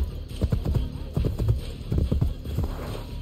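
Horse hooves clip-clop in a rhythmic series of thuds in Assassin's Creed Brotherhood, with steady game ambience beneath and no talking over them.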